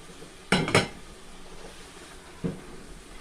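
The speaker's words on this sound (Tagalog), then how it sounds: "lagay natin ang ating chicken." Chicken pieces go into a cooking pot for Nepali-style chicken curry, with two quick clattering clanks close together and then one softer knock, over quiet room noise.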